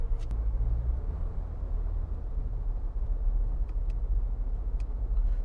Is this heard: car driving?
yes